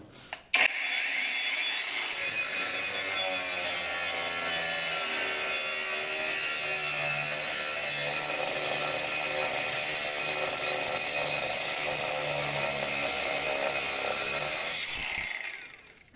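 A budget Leader cordless angle grinder, pressed hard while cutting, grinds loudly and steadily for about fourteen seconds, a harsh continuous whine with a strained, heavy tone, then cuts off.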